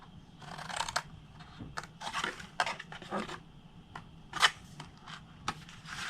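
Scissors cut through cardstock along a score line for a kangaroo tissue box craft, giving a run of short crisp snips and paper rustles at close range, faint and uneven.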